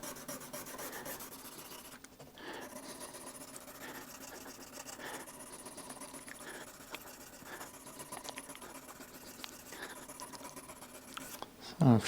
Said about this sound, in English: change from the 120 grit sandpaper to the 600 grit sandpaper